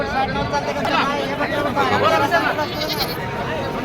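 Goats bleat repeatedly at a crowded rural livestock market, their cries rising over constant close chatter and the hubbub of buyers and traders.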